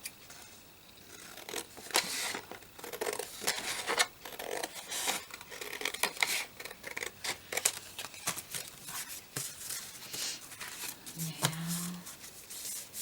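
Scissors snip through paper and cardstock while making shabby vintage tags, with a steady series of close, crisp cuts and rustling paper handling continuing throughout.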